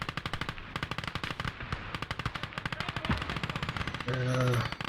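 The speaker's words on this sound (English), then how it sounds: "more mortar fire is blasting in" Battlefield combat in the video game Call to Arms: Gates of Hell, with rapid sustained machine-gun bursts rattling steadily, a dull blast partway through, and a brief tonal in-game sound near the end.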